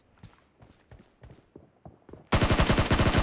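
Gunfire in a multiplayer shooter video game: scattered single shots and footstep-like taps, then a loud, sustained rapid burst of automatic fire close by.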